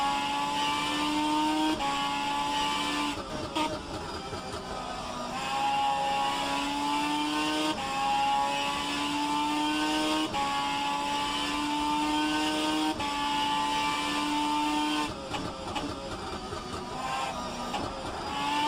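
A racing car engine in the video game rFactor 2 drones steadily, its pitch climbing through repeated gear shifts with brief dips between, loud and continuous with no voices.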